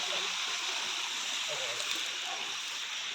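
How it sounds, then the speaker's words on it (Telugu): Stream water flowing steadily at night along a creek where crabs are being caught, a continuous close hiss and gurgle with faint voices underneath. "వాగులోకి అయితే వచ్చినాం"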